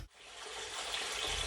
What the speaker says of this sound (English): It's pumping a good amount of water, and it's flowing out the portal.